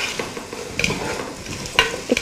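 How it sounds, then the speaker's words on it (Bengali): Carrots are stir-fried in a pan, with soft sizzling and a few scraping, clinking strokes of a utensil stirring them close by. "এটা ভালো করে মিনিট 2 বা মিনিট খানেক ভাজতে হবে।"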